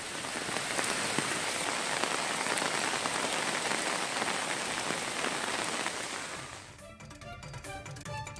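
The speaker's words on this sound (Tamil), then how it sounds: "காலை முதலே இடிமின்னலுடன் பரவலாக மழை பெய்தது." Heavy rain falls steadily during a thunderstorm, a loud, dense hiss of drops on surfaces that runs unbroken for about six and a half seconds before cutting to quieter, different sound.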